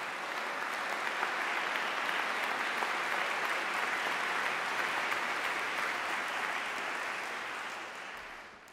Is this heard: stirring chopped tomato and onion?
no